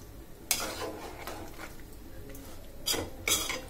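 Dried fish (shutki) curry is stirred in a pot, a few quick scraping clinks of a utensil against the metal over a faint low simmer, close and quiet with no talking.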